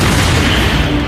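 A deep, loud boom sound effect stands in for colliding galaxies, a dense rumbling burst filling just over a second, with no voice over it.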